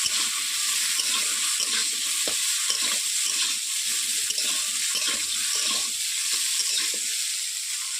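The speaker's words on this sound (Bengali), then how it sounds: "এই তিনটা সবজিকে আমি কড়াইয়ের মধ্যে দিয়ে দিচ্ছি ভেজে নেবো বলে" Diced potatoes, carrots and beans fry in hot oil in a wok, giving a continuous loud sizzle broken by repeated scraping strokes of a stirring spatula.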